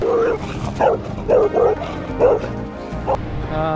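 A dog at the edge of a Florida backcountry dirt road gives a burst of short, yipping barks in quick irregular succession, close and loud, with whimpery tones between them.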